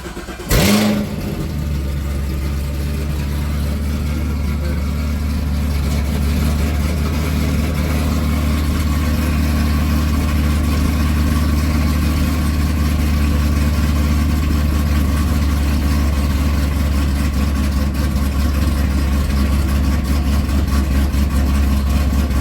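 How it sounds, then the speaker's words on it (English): A Chevrolet Camaro ZL1 that has sat unused for a while fires up with a sharp crank and roar, then settles into a loud, deep, steady idle that rumbles on for about twenty seconds. "Let's just start this thing up and we'll see if see what it do. And it's gonna be loud because I haven't started this car up in a while."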